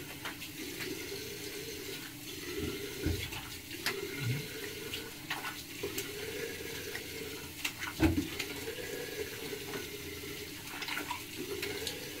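Tap water running into a sink while shaving lather from Truefitt and Hill sandalwood cream is rinsed off, a quiet steady stream broken by intermittent splashes and hand-rinsing sounds, no talking.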